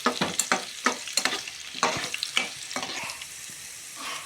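Tempering for gongura chutney frying in a pan, a crackling sizzle broken by repeated sharp spoon scrapes and stirs in an irregular rhythm, close up with no voices.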